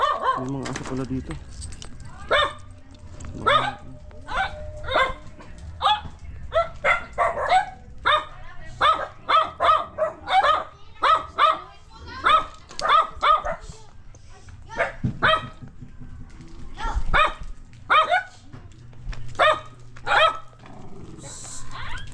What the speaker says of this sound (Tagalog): mga aso pala dito.